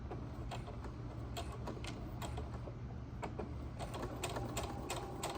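Sewing machine back stitching along the edge of a leader cloth for a quilt frame, a soft rapid mechanical chatter in short bursts, faint and close, with no talking.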